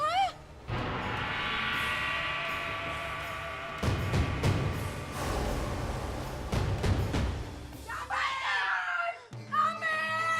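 A grandmother screams in a Hindi TV drama scene, a long loud sustained wail over dramatic background music, followed by further frantic cries near the end.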